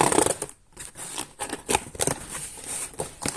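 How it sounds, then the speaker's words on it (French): A Haloknight T107 Pro package is unboxed with crinkling, rustling cardboard and plastic handling, close and busy in uneven bursts, no talk. "Donc tout de suite, nous allons le déballer, je le fais avec vous."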